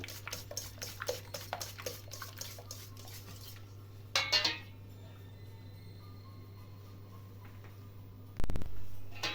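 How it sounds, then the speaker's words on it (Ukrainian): Flour is stirred into milk pancake batter in a bowl, with quiet repeated clinks and scrapes of a utensil against the bowl, a few sharper knocks and a low steady hum behind. "Додаємо муку невеликими порціями і перемішуємо"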